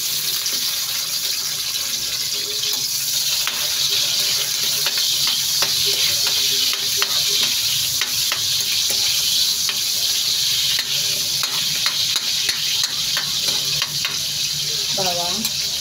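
Onion fries loudly and continuously in a pan for pork kinamatisan, a dense close sizzle with scattered crackles and small utensil clicks throughout. Near the end a faint voice-like warble comes through.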